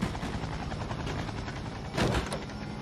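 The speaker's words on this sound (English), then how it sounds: "He does like helicopters." A helicopter flies in a TV medical drama, carrying a patient to a municipal hospital. Its rotor drone is steady and dense, swelling louder for a moment about two-thirds of the way through.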